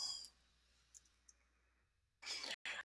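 Two quick computer mouse clicks, close and fairly loud, land near the end after a stretch of near silence with a faint hum.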